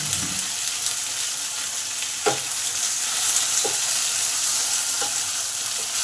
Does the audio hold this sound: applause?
no